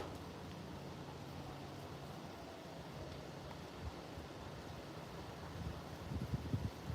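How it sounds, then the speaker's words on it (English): Wind blows steadily across a New Jersey fishing spot, a faint, continuous rushing with no voices, swelling slightly in gusts near the end. "that's a pretty decent cast, but the problem is wind"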